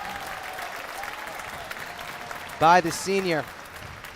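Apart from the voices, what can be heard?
basketball fans applauding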